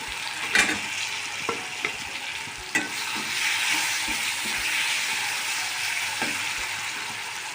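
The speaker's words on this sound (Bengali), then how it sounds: "এই মশলাগুলোর লগে এখন টমেটোটা আমি ফ্রাই করে নেব" Tomato frying with spices in a pan for a vegetarian bhindi chorchori, a steady close sizzle with regular spoon taps and scrapes against the pan.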